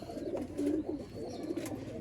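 Soft cooing from a male and female pigeon pair, the hen held in hand, low throaty calls repeating under a quiet background hum.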